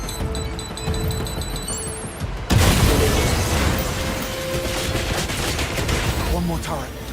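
Turret gunfire in 007 First Light, a sudden loud onset of rapid shots and impacts that continues as dense sustained fire with tones and game effects layered through it.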